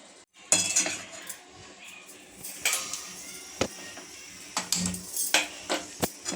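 Pasta being mixed with tomato ketchup in a pan, heard as a run of intermittent metallic scrapes and clinks of a utensil against the cookware, fairly close and uneven in rhythm.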